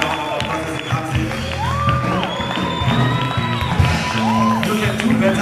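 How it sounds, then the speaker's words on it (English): A crowd at a freshers welcome party cheers, whoops and claps for an arriving coordinator, a steady loud swell of shouting and applause with voices calling out over it. "give our coordinator a round of applause as he comes in"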